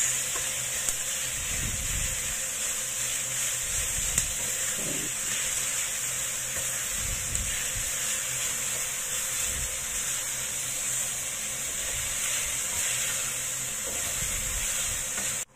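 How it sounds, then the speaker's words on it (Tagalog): Beef with onions fries in a pan for spaghetti in tomato sauce, a steady close sizzle and hiss running throughout with occasional soft stirring scrapes, no talking. "Ayan guys, yung ating beef. Ayan, i-fry lang muna natin yan bago natin ilagay ang sauce"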